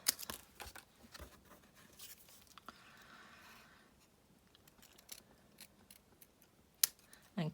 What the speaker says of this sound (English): So what I'm actually going to do is trim this.